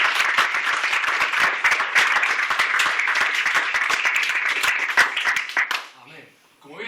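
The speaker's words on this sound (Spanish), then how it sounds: "le pido que le den un fuerte aplauso a Jesús" A church congregation bursts into loud, dense applause that holds steady for several seconds before fading away, with voices mixed into the clapping.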